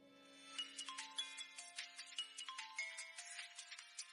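A mobile phone ringtone plays at home in a Pakistani drama scene, a bright repeating electronic melody of quick chiming notes over a steady low tone, moderately loud with no voices.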